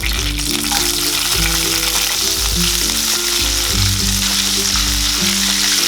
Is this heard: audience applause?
no